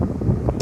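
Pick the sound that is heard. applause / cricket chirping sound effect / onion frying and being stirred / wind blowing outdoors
wind blowing outdoors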